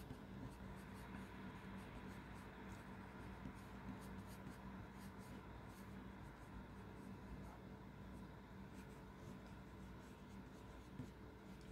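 A pencil shades a tree on paper in a perspective drawing, a faint continuous scratchy rubbing with quick repeated strokes, quiet and close.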